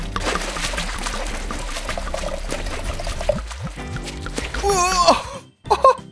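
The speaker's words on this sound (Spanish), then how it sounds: "Un poquito más de agua." Water is poured into a container for a sink-or-float experiment, a steady splashing pour running under loud background music before a brief pause.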